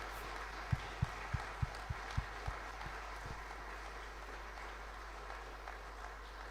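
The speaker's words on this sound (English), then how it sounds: "A massive round of applause" Light scattered clapping for Year 12 graduates in a high school hall, a handful of distinct claps early on over a low steady hum, then fading to near quiet.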